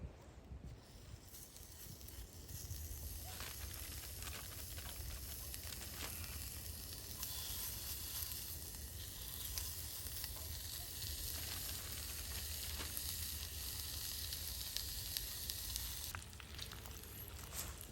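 Homemade bacon frying in a preheated pan on a Lixada stick stove at a camp, a continuous even sizzle and hiss that stays fairly faint and unbroken throughout, with no voices.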